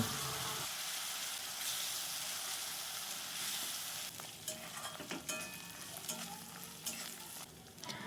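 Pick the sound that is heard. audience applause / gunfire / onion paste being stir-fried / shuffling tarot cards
onion paste being stir-fried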